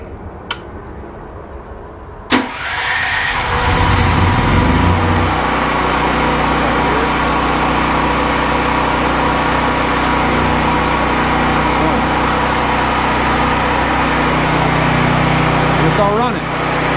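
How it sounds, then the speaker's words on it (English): A portable generator, wired to EG4 inverters with a push-button start, kicks on after a sharp click and a brief crank, then settles into a loud, steady engine drone that runs on for well over ten seconds. "Hopefully the generator will start on the first or second iteration"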